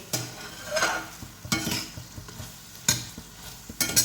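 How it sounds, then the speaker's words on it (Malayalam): Curry being stirred in a pan after asafoetida powder goes in, with a quiet sizzle under four distinct scraping strokes spaced across the moment, close and moderately loud, with no talking. "ഇങ്ങോട്ട് ഇട്ട് നമുക്കൊന്ന് ഇളക്കി കൊടുക്കാം."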